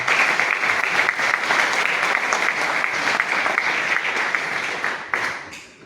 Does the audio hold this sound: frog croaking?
no